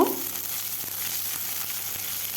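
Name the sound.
chopped onions frying in oil with tempering spices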